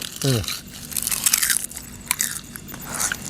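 Crunchy fried food is bitten close to the mic, with sharp crackling crunches and chewing over several seconds, after a brief vocal sound near the start.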